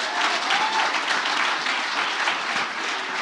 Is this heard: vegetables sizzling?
no